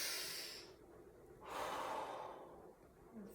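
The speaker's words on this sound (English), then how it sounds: "So breathe in. This is all through the mouth." Breaths drawn in through the mouth during an exercise routine, two long airy inhalations with a quieter pause between them, close and clear with no talking.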